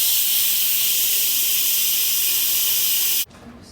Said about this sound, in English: I just like to let the steam off a little bit at a time.